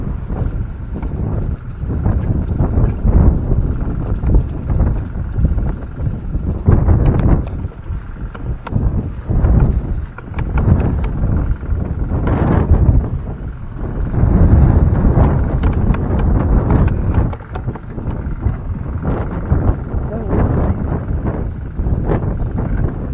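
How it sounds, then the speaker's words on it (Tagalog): Strong wind buffets the microphone in loud, continuous gusts that surge and ease throughout, with low rumbling bursts and no voices. "Malakas ng hangin mga kapakner."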